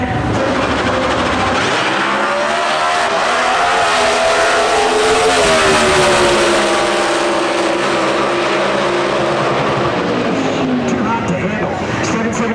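Factory-built stock drag race cars, including Chevys, racing at the NHRA Summit Nationals in Norwalk, Ohio, roaring loudly and steadily with rising engine pitch throughout, under a busy crowd and announcer talk.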